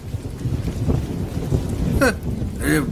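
Rain pours steadily on a rainy day with a low rumble of thunder, while voices break in briefly over the downpour.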